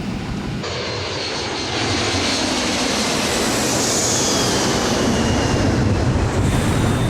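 Dramatized roar of an airliner in a steep emergency descent after explosive decompression, a loud continuous engine and wind rush that swells slightly and holds steady.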